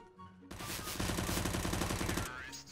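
UMP submachine gun in CS:GO, firing one close, loud, rapid continuous burst of about two seconds after a brief quiet start, then tailing off.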